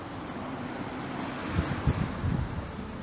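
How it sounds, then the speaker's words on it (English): Constant rushing water of a small stream over rocks, a dense steady wash of noise with slight gurgling swells partway through. "Hear the sound of rushing water? That's from all the rocks."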